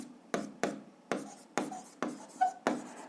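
A pen or chalk writes out a physics formula for spring force in short strokes, seven quick scratchy marks in an uneven rhythm, close and fairly quiet with no voice over them.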